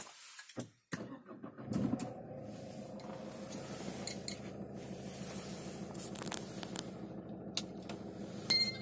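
A Renault Scenic 2 engine restarts: a brief starter crank near the start catches into a steady, fairly close idle hum that keeps running to the end, with no voices.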